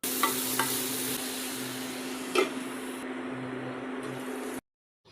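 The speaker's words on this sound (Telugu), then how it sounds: "అదే ఆయిల్లో ఆనియన్స్ వేసుకొని కాస్త మగ్గిన తర్వాత సాల్ట్ వేసుకొని కలుపుకొని మూతను పెట్టుకోండి" Onions fry in oil for egg vellulli karam with a constant sizzle, while a few scraping stirs and one louder clink sound near the start and middle, then the sound cuts off abruptly.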